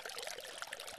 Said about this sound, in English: you'll get that from dripping lots of little water through moss or from a number of rock locations in a waterfall